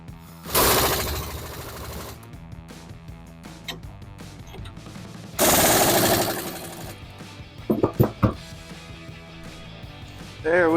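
Impact wrench tightening down a Bilstein B8 5100 front shock on a Silverado or Sierra 1500, two loud sustained rattling bursts with a pause between, followed by a few short clanks and a brief whine.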